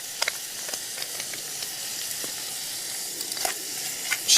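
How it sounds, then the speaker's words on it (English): Dried chilies sizzling in a hot frying pan at a camp cooking setup, a continuous bright hiss with scattered sharp crackles and pops, close and steady. "Just going to chuck in a couple of dried chilies."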